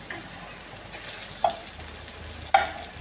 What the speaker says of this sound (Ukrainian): І смажимо до золотистої скоринки з іншої сторони.